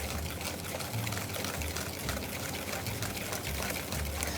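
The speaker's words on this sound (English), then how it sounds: "I'm going to keep whisking" A whisk beats milk with caramel into egg yolks in a bowl, making fast, even, rhythmic scraping and sloshing. It is close and moderately quiet, with no talking.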